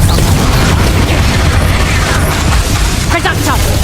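An Expelliarmus spell is cast in the video game Hogwarts Legacy, a loud booming magical burst within dense battle noise, with voices heard over it.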